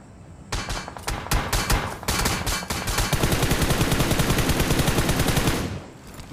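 Video game gunfire in BGMI, a mobile battle royale shooter: loud, close bursts of rapid automatic fire, first in clipped separate volleys and then a sustained unbroken stream before stopping abruptly.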